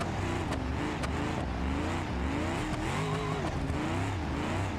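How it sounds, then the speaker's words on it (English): A car engine revs in continuous, varying bursts as the throttle is feathered rather than floored to avoid spinning out, loud and close throughout with no talk. "we're gonna try and feather the throttle instead of just flooring it so we don't spin out"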